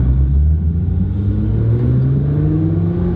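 A Nissan R35 GTR engine revs loudly and steadily, its deep rumble rising and holding close up with no talk.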